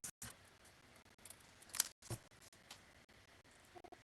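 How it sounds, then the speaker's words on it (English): Scissors cutting straight across paper in a quiet room during a craft project, with a few short, crisp snips spread over several seconds and faint handling noises between them. "so we can just cut straight across"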